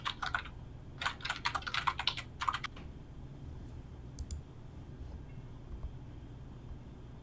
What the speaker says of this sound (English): I heard Moon's keyboard.